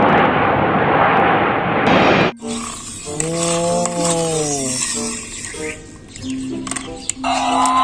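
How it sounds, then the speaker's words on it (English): Toy aeroplane giving off a whooshing jet sound, then a wavering electronic engine tone with rising and falling pitch, loud and close, alongside brief toy car noises. "Aeroplane."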